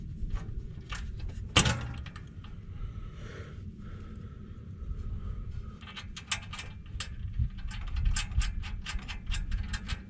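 A socket wrench tightens nuts on a Bro Tek skid plate on a Kubota BX23S tractor: one sharp metallic clank, then repeated bursts of quick ratchet clicking, close by and with no talk.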